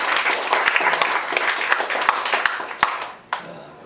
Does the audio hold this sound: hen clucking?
no